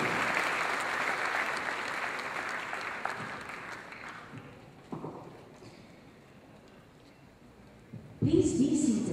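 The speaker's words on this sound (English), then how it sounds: "Another round of applause for our commencement speaker, Honorable Senator Alberto G." An audience at a university commencement ceremony applauds a senator, with loud, dense clapping that fades over several seconds, followed by a quiet room and a brief stir of sound at the end.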